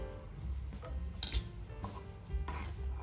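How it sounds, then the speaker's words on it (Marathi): Orange food colour stirred into hot sugar syrup flavoured with cardamom for champakali, a soft sizzling bed under scraping spoon strokes and a few sharp clinks against the pan, close and fairly quiet. "आता आपल्याला फूड कलर छान मिक्स करून घ्यायचा आहे पाकामध्ये।"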